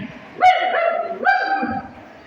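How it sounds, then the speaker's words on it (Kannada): A small puppy sound from an electronic keyboard's rhythm pad gives two high, yelping barks in quick succession, close and fairly loud, with a short whine trailing off after. "ಇದು ಚಿಕ್ಕ ನಾಯಿ ಮರಿ."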